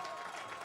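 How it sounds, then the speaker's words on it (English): Fans at a women's professional soccer match in Western New York give a player a round of applause, a short burst of dense, steady clapping from the stands. "McCall gets a nice round of applause,"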